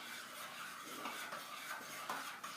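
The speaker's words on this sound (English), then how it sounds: "I give it a good stir right quick" A spoon stirs homemade BBQ sauce in a pot, making soft scraping swirls with a few brighter clinks against the side, fairly quiet and close.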